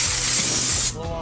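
Compressed air blasting around the spark plug area of an engine, a loud, close, hissing spray that holds steady for just under a second and then cuts off abruptly.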